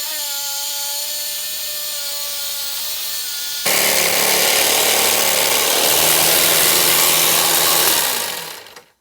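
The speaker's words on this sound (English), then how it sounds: "Just a sanding disc on an angle grinder. Go gently with it." An angle grinder with a sanding disc whines at high pitch, then the disc bites into a motorcycle seat and a loud, harsh sanding rasp continues steadily before winding down.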